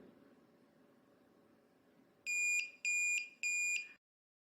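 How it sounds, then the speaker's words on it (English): A Brinks digital deadbolt gives three short, sharp electronic beeps in an even rhythm as it resets. They are loud and close, over a faint background hiss. "press and hold it until we hear 3 short beeps"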